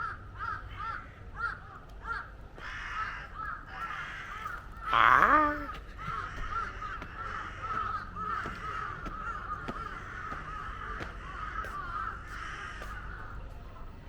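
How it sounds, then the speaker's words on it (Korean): Several crows caw repeatedly at a distance outside a winery near Tokyo, over low ambient rumble, and a person briefly exclaims partway through. "까마귀가 반겨주는군요. 우와, 까마귀 되게 많아."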